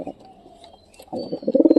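A pigeon gives close, throaty coos, first faint and then swelling into a loud, pulsing burst at the end, with no talking.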